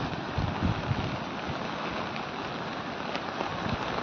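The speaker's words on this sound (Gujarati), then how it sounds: "ત્રણ દિવસથી આ વરસાદ પડે છે" Steady rain falling in Rajkot during days of monsoon downpour, with the Bhadar river in flood, a dense continuous hiss of drops on surfaces with occasional louder splashes and no talk.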